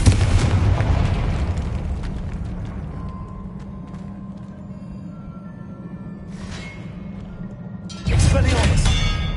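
A Confringo fire spell blasts in Hogwarts Legacy, a loud opening burst followed by a low rumbling decay, then a second heavy explosive hit near the end.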